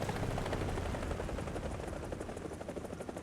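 A video game helicopter's rotor throbs in steady rapid pulses under nearby machine gun fire, loud and continuous throughout.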